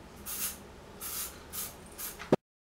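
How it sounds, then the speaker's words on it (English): SAXE body spray hisses out of the can in four short bursts, each a soft aerosol whoosh spaced about half a second apart, followed by a sharp click before sudden silence. "I could spray a few sprays of this"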